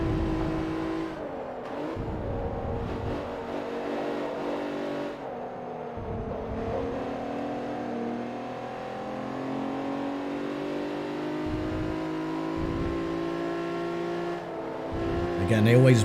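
A race car engine in Forza Motorsport 3 drones steadily at high revs, pitch shifting up and down through gear changes and braking for corners, loud and continuous with a voice talking over it.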